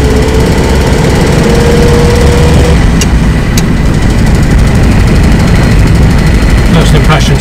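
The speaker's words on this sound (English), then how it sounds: "Still a little bit tappy from the top of the engine" A 1956 Standard 8 saloon engine runs steadily on a quiet road, loud and close, with a light tappy clatter from the top of the engine riding over the drone.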